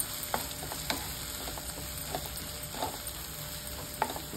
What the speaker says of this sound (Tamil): இப்போ என்ன பண்றேன், கத்திரிக்காய் போடுறேன்.